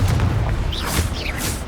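A Confringo spell explodes in the video game Hogwarts Legacy as a loud, low boom with thumping impacts, and brief whooshing, sweeping effects flicker over the top.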